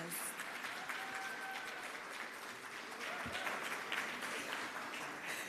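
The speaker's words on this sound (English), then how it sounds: "I think we can do a bit longer on the applause." Sustained audience applause at a data privacy conference, a broad even wash of clapping from a large room that carries on without letup.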